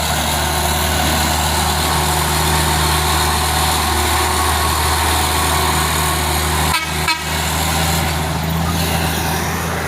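A loaded truck labors up a steep hill on Bukit Kodok while overtaking, its engine droning loud and close throughout, with a couple of horn toots near the end.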